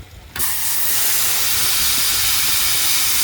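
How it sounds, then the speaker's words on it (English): Hose pipe rinsing a koi pond filter tray during winter pond cleaning: a steady, loud, close hiss of spraying water starts abruptly and runs without a break, with no voices. "So now we'll just give it a manual rinse."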